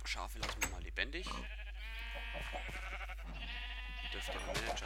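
Sheep bleat several times in Minecraft, close and fairly quiet, with faint clicks and background sounds between the calls.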